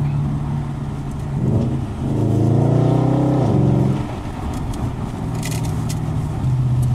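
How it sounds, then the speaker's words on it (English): A cheap Audi S5 bought at a UK car auction accelerates with the windows down, its engine note rising and dropping through an upshift, with faint popping crackles from the exhaust afterwards; no one speaks. "Well, it makes nice pops on the upshift."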